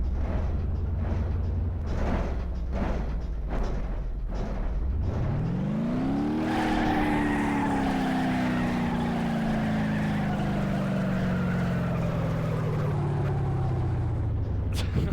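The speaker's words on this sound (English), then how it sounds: "This is a beat up motor too. Especially with the exhaust right now." A beat-up car motor in BeamNG.Drive, with a worn exhaust, idles in rough pulses, then revs up sharply and holds a loud, droning high-rpm whine that slowly sags, close and steady throughout.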